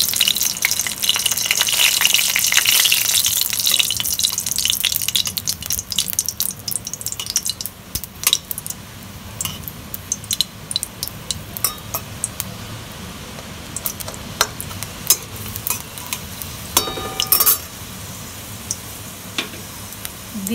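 Dried red chilies crackle and sizzle in hot mustard oil in a wok. The frying is loud and dense at first, then thins into scattered pops and spits, with no voices.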